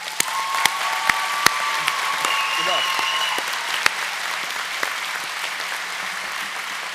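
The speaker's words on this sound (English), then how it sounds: "Can we all please give him a round of applause?" A high school graduation audience breaks into sustained applause, a dense wash of many hands clapping steadily with a few sharper, closer claps standing out, filling a large ceremony space at moderate loudness.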